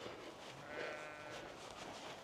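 Sheep bleating in a field near a churchyard, a faint, distant and diffuse bleat rising briefly amid a low outdoor wash, with no voices.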